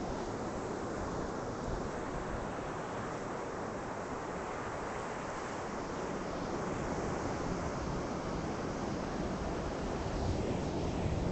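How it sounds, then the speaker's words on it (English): Ocean surf rushes and crashes on rocks in a continuous broad roar, steady and full, with wind buffeting in the background. "they heard the surf crashing on the rocks"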